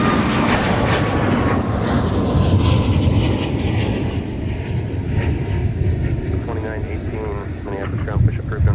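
A United airliner departing Minneapolis–St. Paul airport rumbles steadily in the distance, partly overlaid by air traffic control radio chatter.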